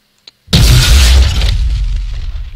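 Fuel rod cannon from a Halo: Combat Evolved mod detonating, a single loud close boom after a short click, with a rumbling tail fading over two seconds.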